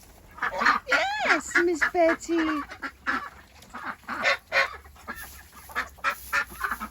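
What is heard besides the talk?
ducks honking and quacking in a tunnel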